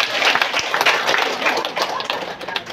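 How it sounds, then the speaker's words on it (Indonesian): Audience applause at a gathering: a short, busy patter of many hands clapping, fairly close and steady throughout. "tepuk tangan untuk Bapak Ibu semuanya."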